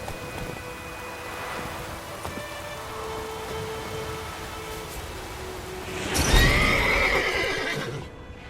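In an animated Witcher film a horse gives a sharp whinny near the end, after a stretch of soft hoof and ambient rustling, heard close with no speech.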